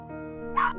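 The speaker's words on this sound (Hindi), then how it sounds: "तभी उसे कुत्तों की भौंकने की आवाज सुनाई दिया।" A dog gives a single short yelping bark, fairly close, after a brief tonal hum.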